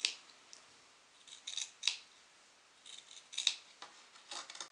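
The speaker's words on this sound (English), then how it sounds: "Now cut out the shapes." Scissors cutting out traced fabric shapes for a book clutch, a series of quiet close snips and crisp blade closures with soft paper-like rustling between cuts.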